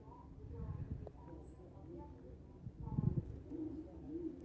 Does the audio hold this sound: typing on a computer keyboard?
no